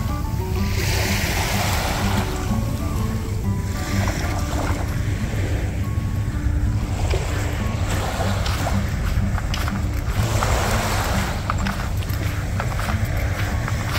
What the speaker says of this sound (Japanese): もうこの波の音が大好きなんよね。